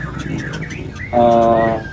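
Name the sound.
orange-headed thrush (anis merah) singing at bird contest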